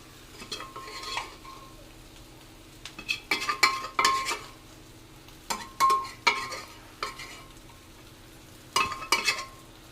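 Beef pieces are sautéed and stirred in a pan for a Kerala beef ularthiyathu, with a soft sizzle under repeated scraping and clattering spatula strokes in irregular bursts.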